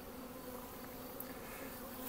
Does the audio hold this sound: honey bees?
yes